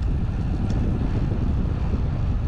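Strong headwind roars into the microphone while cycling through Swiss cantons on an autumn gran fondo, a dense, continuous low rumble with no letup and no voices.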